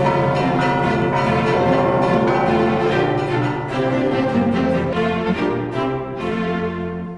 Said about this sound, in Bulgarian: Там се намира и втората по големина камбана в България.